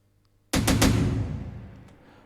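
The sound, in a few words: Afro house percussion hit sample playing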